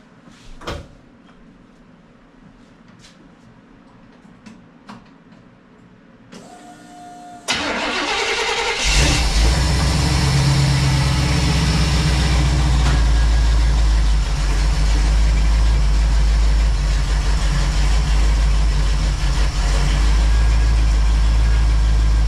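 A car engine cranks and catches after a door clunk and some quiet handling sounds, then settles into a loud, steady idle with a deep, constant rumble for the rest of the clip.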